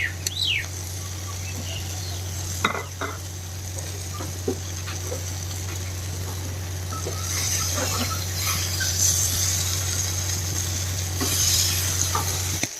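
Chopped tomatoes fry and sizzle in a pan for an Assamese pork curry, with a steady hiss, occasional stirring scrapes and bird chirps faint in the background; no talking.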